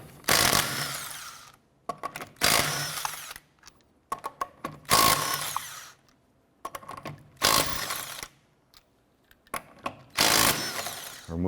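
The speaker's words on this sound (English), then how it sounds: "Using a 19mm socket, let's go ahead and remove our lug nuts." A power tool with a 19mm socket spins off the rear wheel lug nuts of a 2006-2013 Chevrolet Impala in five loud whirring bursts, each a second or so long, with silence between them and no talking.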